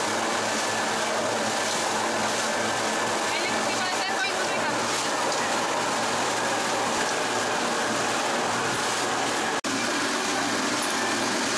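A boat motor drones steadily on open water in Cambodia, near Koh Rong island, with a broad rushing wash of engine and water under people talking throughout.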